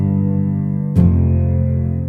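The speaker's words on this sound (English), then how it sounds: "I want to show you how I take a piano that sounds like this" An unprocessed piano track sustains a soft held chord, then a new chord is struck about halfway through and rings on, plain and dry with no talking.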